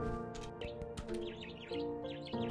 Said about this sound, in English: if you press Q, you do little chirpy sounds